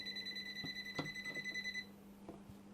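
A TOOLTOP ET32 circuit breaker finder beeps at a breaker and GFCI combo, giving a steady high electronic tone with overtones that cuts off partway through, joined by a few faint clicks.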